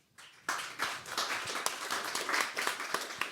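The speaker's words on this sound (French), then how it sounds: "On peut l'applaudir." An audience at a Paris deep-tech startup pitch session breaks into applause after a short quiet start, with a dense wash of clapping hands that stays strong and even to the end.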